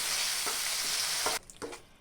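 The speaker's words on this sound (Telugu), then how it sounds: "ఈ పచ్చడిని పోపు దినుసుల్లో కలుపుకోవాలి." Ground garika grass chutney sizzles as it is stirred into hot frying tempering spices in a pan, a loud steady hiss that cuts off abruptly, leaving a few soft scraping stirs.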